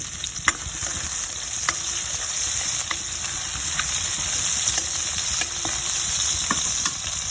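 Garlic and onion sauté in a pan for guisadong monggo, frying with a steady, close hiss and sizzle and scattered crackles throughout.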